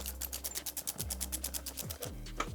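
A rapid, buzzing whir from a power tool tightening an axle slider bolt on a 2023 Honda XR150L, pulsing in short bursts with the pitch shifting as the bolt seats.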